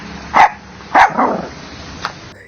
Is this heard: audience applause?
no